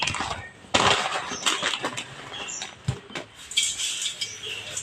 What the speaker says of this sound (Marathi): त्याच्यासाठी हे पातळ पोहे मी आधी पहिल्यांदा चाळून घेते